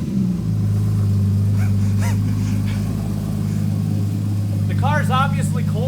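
A cold Porsche Cayman fitted with a FabSpeed exhaust idles with a deep steady drone, then takes a quick throttle blip that briefly rises and falls. People talk nearby over the engine.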